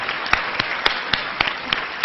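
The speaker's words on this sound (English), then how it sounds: "just ask for a round of applause for Zeba's mum" An audience in a hall claps steadily, with a soft wash of many hands and a few sharp, evenly spaced claps standing out up close. It sounds moderately loud, and no one speaks over it.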